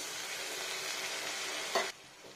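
Tamarind water and extra water are stirred in a cooking pot, a steady close sizzling, bubbling wash with a brief louder scrape of the spoon near the end before it drops quieter.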